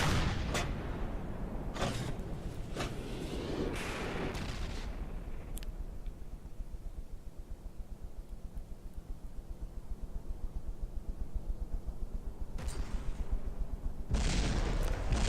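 Cram cannon firing in a video game, a cluster of sharp booming blasts at the start, a quieter rumbling stretch, then more loud bursts near the end, no talking.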